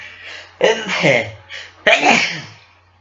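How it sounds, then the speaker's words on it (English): Two loud sneezes, one after another about a second apart, close to the listener, with a steady low hum underneath. "I don't know why I'm sneezing today"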